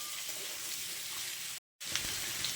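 Potatoes and jackfruit seeds fry in a pan with a close, steady sizzle that breaks off for a split second before resuming.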